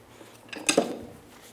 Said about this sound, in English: Take a little hammer and give it a little love tap.